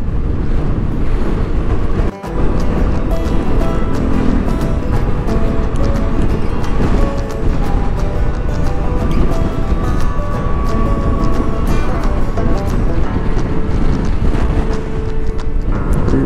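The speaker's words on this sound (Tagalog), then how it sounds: "Lakas ng hangin, sobrang lakas ng hangin." Loud, constant wind buffeting a microphone while riding a motorcycle, with a roaring engine drone underneath and a brief cutout partway through.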